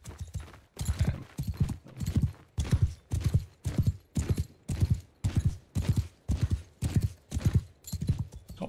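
Horse hooves galloping in Mount & Blade II: Bannerlord, a steady rhythmic drumming of heavy thuds in regular groups, close and sustained without pause.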